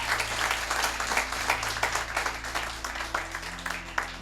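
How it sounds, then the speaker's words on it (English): Steady applause from a seminar audience fills the room after a culinary presentation, many hands clapping continuously at moderate distance over a low background hum. "A clap for Madam Tofik for the nice presentation."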